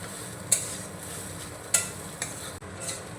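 Soybean paste filling being stir-fried with spices in a pan for kachori, a steady low scraping sizzle broken by a few sharp spatula clinks and scrapes against the metal.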